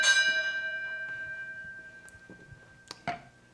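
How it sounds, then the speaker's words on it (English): A single bell strike rings out and decays with a long sustained tone, followed by a few faint knocks and clatters near the end, fairly close with no talk. "My wife rang our wedding bell, and I don't know what that means."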